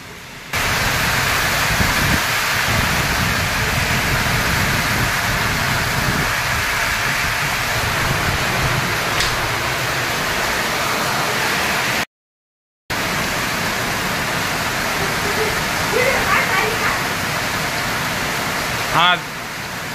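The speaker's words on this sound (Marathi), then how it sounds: "आज चांदवड तालुक्यामध्ये खूप जबरदस्त अशा पद्धतीने पाऊस सुरुवात झालेली आहे" Heavy monsoon downpour pours across waterlogged fields in Chandwad taluka, a loud, dense, unbroken hiss of rain that continues for the whole span, with a brief cut partway through and a few faint sounds near the end.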